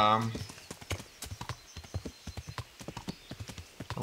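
Horse hooves clip-clop in a steady, brisk rhythm while riding in Kingdom Come: Deliverance, close and fairly loud, with a short whinny-like sound at the start.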